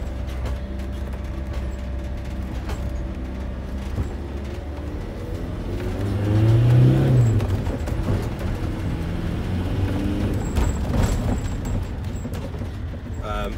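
A 2.5 turbo diesel car engine drives up a lane, a steady close rumble that swells into a brief stronger pull midway and then settles, with a voice speaking over it.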